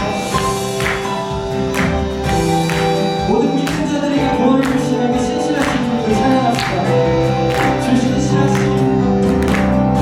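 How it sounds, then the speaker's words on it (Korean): Congregation at a Korean church Sunday worship service claps along in a steady rhythm during a worship song, sharp regular claps over music while a leader speaks. "함께 박수 치시면서"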